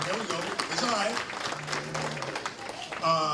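Audience applause at a banquet, clapping filling the room under overlapping voices and a host talking over it, with a brief swell toward the end.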